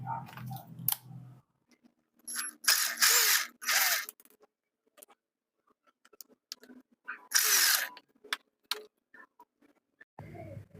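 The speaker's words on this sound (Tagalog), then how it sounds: "Baklasin ko na rin yung 2 tornilyo niya." Two screws being backed out of an electric motor housing by power driver, in short whirring bursts with quiet gaps between them, close and fairly loud.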